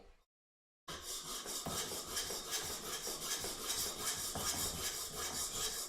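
Coarse grinding on a blade's bevel during sharpening, a steady, close, raspy scraping that runs continuously and fairly loud after a brief silent start, with no talking.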